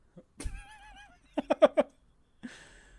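Horse neighing: a long wavering whinny followed by a burst of four rapid, loud snorting calls, then a fainter rougher tail, each standing alone with no talk.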